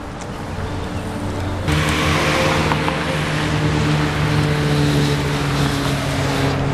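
Continuous roar of traffic rushing past on a nearby highway in Iowa City, with a louder vehicle swelling in partway through; steady engine and tire noise.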